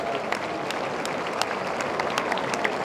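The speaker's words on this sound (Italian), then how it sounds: "Facciamo un applauso ai nostri sacerdoti." A church congregation applauds its priests during a blessing ceremony in an Italian town, giving a soft, steady wash of clapping with a few sharper claps standing out.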